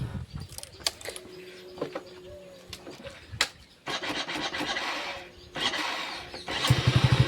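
A motorcycle engine is started with a few cranking bursts and then catches into a steady running rumble, fairly close, with no talking.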